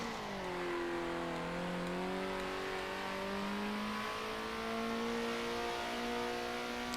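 A 1960s-style grand prix race car in the video game Circuit Superstars accelerates out of a corner. Its engine gives a steady, rising multi-toned drone, close and alone, with pitch climbing smoothly through the gears.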